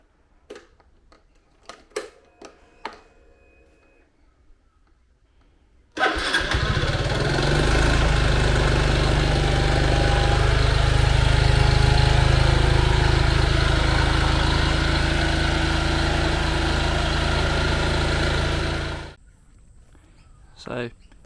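A Honda NBC110 motorcycle fitted with a 130cc big bore kit and new clutches starts after a few clicks. It then idles loudly and steadily at a high speed, as if the throttle were stuck, for about thirteen seconds before cutting off.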